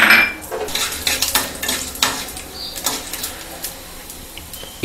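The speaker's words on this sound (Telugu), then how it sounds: "ఇప్పుడు మినపప్పు 2 టీ స్పూన్లు వేసుకోవాలి" Urad dal with tempering spices frying in oil in a pan, with clinking spoon scrapes and stirring clatter up close over a light sizzle.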